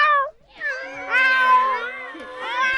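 Several people imitate cats together, producing overlapping drawn-out meows and yowls that rise and fall in pitch, loud and close as if in a small studio.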